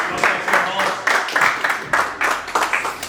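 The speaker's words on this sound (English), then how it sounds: "Right, lads, round of applause." A small group of football team members from an amateur Sunday league side clap together in a short, uneven burst of applause, with irregular claps close by and some voices mixed in.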